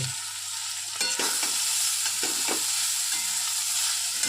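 A spoon stirs an egg and taro stolon curry in a pan on a gas stove, the scrapes falling at irregular intervals over a steady sizzle, close and fairly loud.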